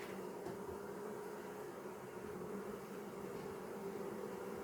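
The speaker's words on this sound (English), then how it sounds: "Let's just look at the bees." Honey bees hum steadily at an open beehive, a continuous close drone with no talk over it.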